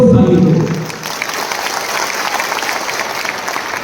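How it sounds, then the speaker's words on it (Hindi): An audience at a political gathering in Tripura claps loudly, a dense burst of applause that starts strong and settles into steady, slightly softer clapping. "तो जोर से ताली दो"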